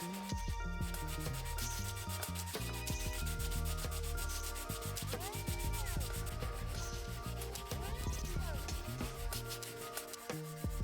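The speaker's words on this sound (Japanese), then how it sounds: "このパーツと先ほどのパーツをサンディングして取り付けていきます。" Gundam model kit parts are rubbed with sandpaper (180, 400 and 600 grit) in a continuous scratchy rasp that runs throughout, with a tonal background underneath.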